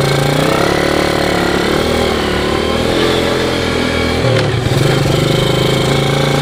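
A Yamaha Moto4 ATV engine riding on a freshly recut, overgrown trail, a loud continuous rough drone that holds steady, then drops briefly in pitch and climbs again, close up, heard alone.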